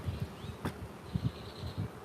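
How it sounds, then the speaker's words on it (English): Angry honeybees buzz around a beekeeper's veil during a hive inspection, a close, steady drone with individual bees whining past, fairly quiet overall. "Not sure if you guys see them buzzing my face."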